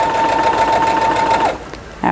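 A sewing machine stitching fabric runs in a steady, close, high hum for about a second and a half, then stops abruptly, leaving a quiet room before a brief restart at the very end.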